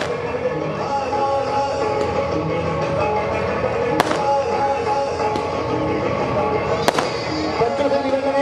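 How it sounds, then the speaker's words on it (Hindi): Fireworks go off at the 2018 Dussehra festival in Azadpur, a continuous crackling roar with two sharp, loud bangs standing out, under a busy crowd din. "इतनी सुंदर सुंदर आतिशबाजी देखने को आपको मिल रही है।"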